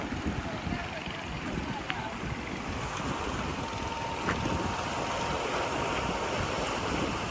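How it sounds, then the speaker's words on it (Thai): A fishing boat moves on the Chi River near a full dam in Yasothon, Thailand. A low, distant motor drones steadily beneath strong wind buffeting against the microphone. "เรือมาหาปลา"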